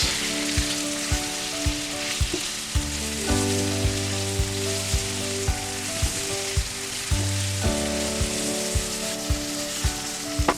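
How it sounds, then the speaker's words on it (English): Black fungus mushrooms sauteing in a pan give a steady, even sizzle with soft, regular ticks of stirring throughout, set against a low tonal hum in the background. "you want to add the black fungus mushroom. About 100 to 200 grams. We're gonna saute this."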